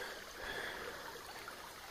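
A big Missouri creek flows with a soft, steady rushing babble, faint and even throughout with no voices.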